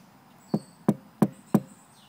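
Four evenly spaced knocks on the door of a 1996 Toyota Land Cruiser, each a short dull thud close by, with a quiet pause between them and no talking.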